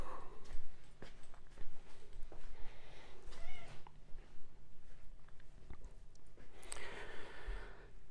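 A cat meows a few times at close range inside a furniture restoration workshop, with soft rustling and handling noises around it and no speech.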